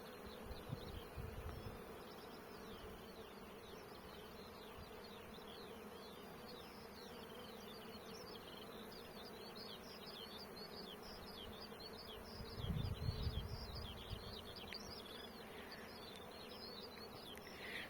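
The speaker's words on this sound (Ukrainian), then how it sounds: "Тут просто вулик. Бджолів нереально багато." Many bees buzz together over flowering mustard in a dense, continuous hum, faint and steady throughout, with a few louder passes of individual insects close by.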